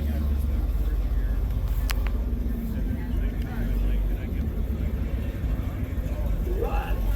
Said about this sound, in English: Car coming behind us here.